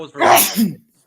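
A single sharp sneeze bursts out in a studio setting during a basketball talk show, loud and close, with a brief voiced tail before silence.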